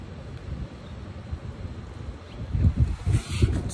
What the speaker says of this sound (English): that's the wind just flying